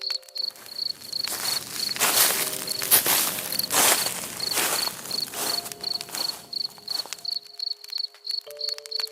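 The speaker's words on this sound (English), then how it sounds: "I was woken from my slumber to the sounds of footsteps walking nearby" Footsteps crunch near a tent at night in the Maine woods, a steady series of close, uneven treads over ground litter, with crickets chirping in a constant high pulse around them.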